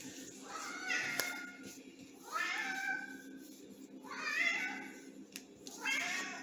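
A domestic cat meows four times in drawn-out, wavering calls, fairly close and clear, with short quiet gaps between each cry.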